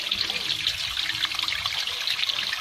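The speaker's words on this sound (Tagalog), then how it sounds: "lumalabas ang tubig" Water pours steadily from an on-off water pump during a motor repair, a continuous close trickling and splashing flow with no voices.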